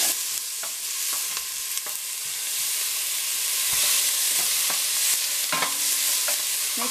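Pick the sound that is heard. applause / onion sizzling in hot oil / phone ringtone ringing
onion sizzling in hot oil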